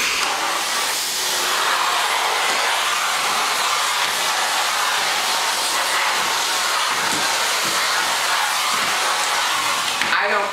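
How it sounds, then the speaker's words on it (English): A vacuum cleaner runs steadily and loudly throughout, a constant broadband whooshing hiss with slight fluctuations as it is pushed around during vacuuming. "Now there are some unique ways to vacuum."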